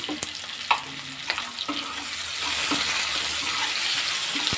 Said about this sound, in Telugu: ఇలా ఫ్రై చేసుకోవాలి కొద్దిగా ఉప్పు వేసుకుంటే త్వరగా మొగ్గుతుందండి